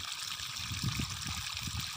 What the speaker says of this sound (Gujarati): આપણે મોટર ચાલુ થઈ ગઈ છે ને પાણી આવી ગયું છે